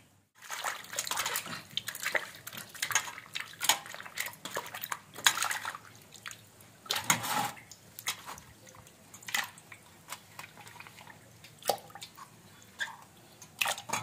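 Squid for a Malvani-style masala is rinsed by hand in a vessel of water, giving irregular splashes, sloshes and drips with occasional faint clinks against the pot, close and quiet.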